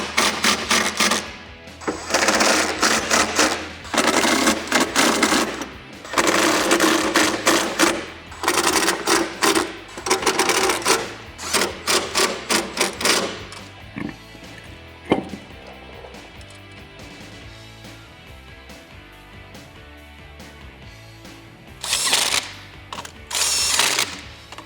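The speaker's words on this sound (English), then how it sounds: "I'm gonna use a 10mm for the nut, and I'm gonna use this long 4mm Allen key for the bolt head" Ratcheting and clicking of a 10mm wrench on a nut and a long 4mm Allen key on a bolt head, fitting a Barricade rear fender flare on a 1987-1995 Jeep Wrangler YJ. Dense bursts of metallic clicks, loud and close, with quieter gaps.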